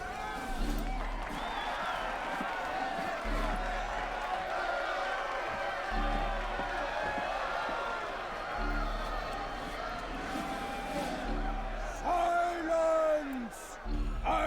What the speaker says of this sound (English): That's a very interactive crowd.